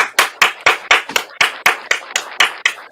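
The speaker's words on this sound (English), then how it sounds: "big round of applause" About a dozen sharp hand claps in a steady, even rhythm, close and loud, with no voices.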